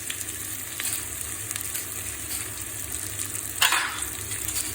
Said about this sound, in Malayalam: സവാള ഒന്ന് മുരിഞ്ഞ് വരണം കേട്ടോ.